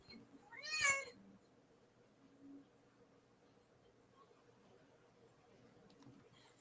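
A cat gives one short, clear meow near the start, then the room stays quiet with faint low background noise.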